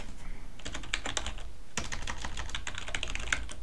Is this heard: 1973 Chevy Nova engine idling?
no